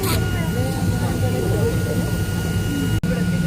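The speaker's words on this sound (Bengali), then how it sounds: "আমাদের প্লেনের ইঞ্জিন স্টার্ট হয়ে গেছে গাইস।" An airplane's engine, just started before takeoff and heard from inside the plane, gives a loud, steady hum and whine with a sustained high tone, with voices mixed in and a brief dropout near the end.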